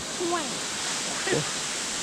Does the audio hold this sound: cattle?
no